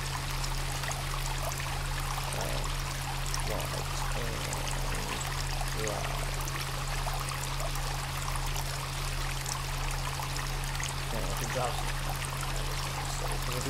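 River water flowing steadily in the video game Sons of the Forest, a constant close rushing stream with a low hum underneath and faint voices in the background.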